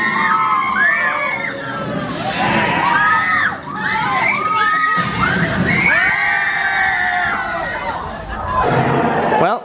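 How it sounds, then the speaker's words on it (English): Teenage girls scream and shriek loudly at a theme park show, with rising and falling high-pitched cries over a cheering crowd for nearly ten seconds, and only brief dips between bursts. "those girls behind us, they were screaming"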